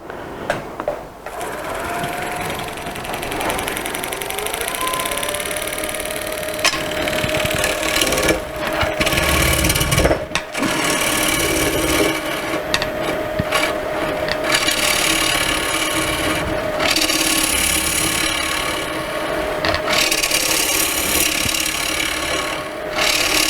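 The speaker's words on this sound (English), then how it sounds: "I'm just going to face this a little bit off first" A continuous scraping, rasping whir of a tool cutting into a wood bowl spinning on a lathe, steady and loud with occasional brief breaks and shifts in tone.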